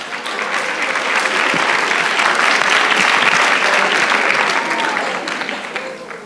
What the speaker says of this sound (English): So if you want to give yourselves a round of applause, go right ahead.